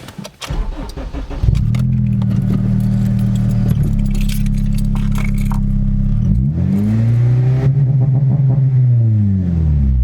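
A tuned widebody Acura RSX Type S with a Kpro V4 and launch control starts up, then holds a loud, steady high-rpm rev against the limiter before the engine note swoops down and climbs again, close up.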